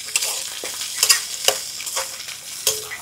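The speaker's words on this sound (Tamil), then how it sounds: "ஆமாம், எல்லாத்தையும் வதக்கணும்ல" Beans, chilies and capsicum sautéing together in a pan, with a soft steady sizzle broken by several sharp scraping stir strokes, close and alone.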